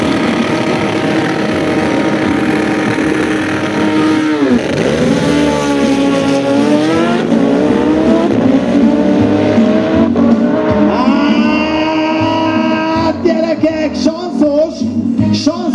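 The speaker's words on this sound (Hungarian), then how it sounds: "Autók, motorok, kamionok és drift show." Cars accelerate and drift at an airfield motorsport show at Kunmadaras, engines revving hard with rising and falling pitch sweeps and tyre squeal, loud and close for the whole stretch with continuous roar.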